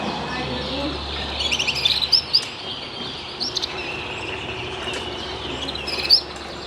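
A red canary sings at a members' bird show, its bright chirps and trills rising in short bursts over a busy hall, with faint background voices and a brief low hum.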